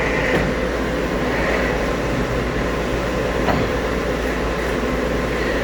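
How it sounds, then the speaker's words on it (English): An HP Latex 115 large-format printer prints stickers on 54-inch media, giving off a loud, steady mechanical whir and hum that runs throughout with no speech. "Printing up some stickers on the HP Latex"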